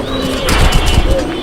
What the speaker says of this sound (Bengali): আর বাম সাইডে যে কবুতরটা আছে ওইটা হচ্ছে মাদি কবুতর